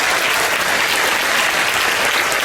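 A large crowd aboard the cruise ship Odyssey of the Seas applauds and cheers continuously at a Crown & Anchor top-tier event, a dense, loud, steady wash of clapping.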